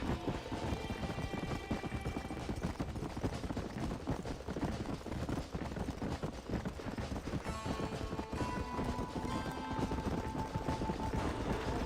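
Horse hooves galloping in Red Dead Redemption, a fast steady clip-clop that runs unbroken for the full length, loud and close, with game sounds mixed in.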